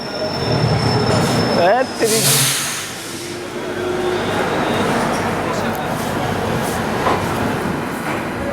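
The Hazur Sahib Nanded Hadapsar Express departing Nanded, with a loud squeal of wheels on rails early on, then a steady rumble and rhythmic clatter of the moving train, and a voice talking over it.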